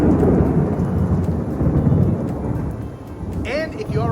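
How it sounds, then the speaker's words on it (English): Thunder rolls through a thunderstorm in Seminole, Oklahoma: a loud, sustained rumble over steady rain, easing slightly in the middle before swelling again, with a few crackling bursts near the end. "There's a thunderstorm going on right now."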